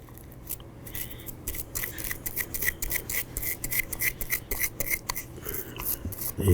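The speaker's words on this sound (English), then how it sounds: "the barrel, we're going to scrub here. We're going to scrub the feed ramp." A small brush scrubs the feed ramp of a 9mm Smith & Wesson M&P Shield pistol barrel, giving quick, close, repeated bristly strokes that grow slightly louder toward the end, with no talking.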